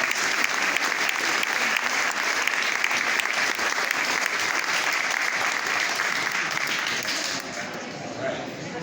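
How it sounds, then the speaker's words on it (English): Sustained applause from an art exhibition audience at an awards presentation, dense and steady for most of the stretch, then thinning slightly near the end. "let's give her a round of"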